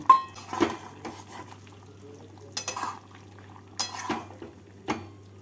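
Fried prawns stirred in a pan for a drumstick (sajne data) prawn curry, giving sporadic metallic clinks and scrapes of a utensil against the pan over a steady low hum, with a few sharper knocks spaced through.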